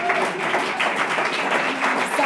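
An audience applauds a group coming up to perform at a hootenanny, with brief dense clapping from a nearby crowd.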